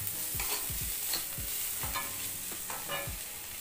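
Fried dried shrimp are stir-fried with spices, a spatula scraping the pan in a quick repeating rhythm over a constant close sizzle, with no voices.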